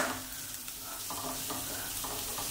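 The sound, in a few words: vegetables roasting in a pan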